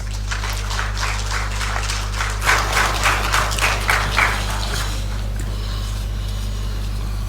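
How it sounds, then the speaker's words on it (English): Audience applause at a Ghanaian presidential ceremony appointing immigration, fire service and prisons officers: a steady, even patter of many hands clapping that swells slightly midway, carried over a low electrical hum in a large room. "A round of applause."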